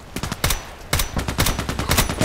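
A Sig Sauer MPX submachine gun firing in the video game Contract Wars: rapid bursts of close, loud shots, a short volley, a brief pause, then longer sustained automatic fire.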